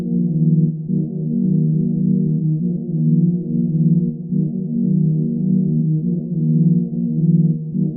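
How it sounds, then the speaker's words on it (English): A sustained droning tone drenched in a cathedral-style reverb effect from a Tone 2 modeling unit, the low harmonic stack holding steady and swelling slightly for about eight seconds with no talking. "adjusting this mix knob will cut away that reverb cathedral effect, or dilute the sound in it"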